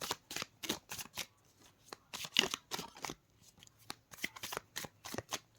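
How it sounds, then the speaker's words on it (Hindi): Tarot cards are shuffled in a steady run of crisp riffling bursts, close and fairly quiet, with brief pauses between shuffles. "last shuffle,"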